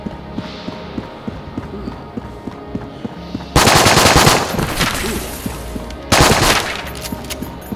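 Mac 10 firing in the video game Enter the Gungeon, with two loud rapid bursts of automatic fire, one longer and one shorter, set between lighter rhythmic in-game footstep-like ticks.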